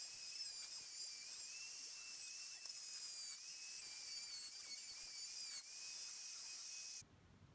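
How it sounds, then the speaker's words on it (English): Router spinning continuously as it cuts the front joints of a small wooden kids chair using a jig, a steady high whine held for about seven seconds before abruptly stopping. "The routing's done."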